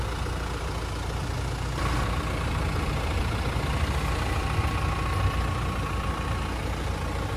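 A 2020 BMW X1 sDrive 2.0 TwinPower Turbo diesel idles steadily nearby, a continuous low rumbling drone with an even, unchanging tone throughout.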